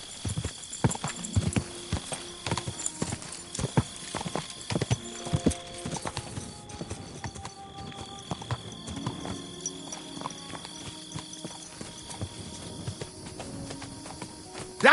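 Horse hooves clip-clop steadily over a busy, echoing mix of other noises, with an occasional whinny and a few faint voices in the background.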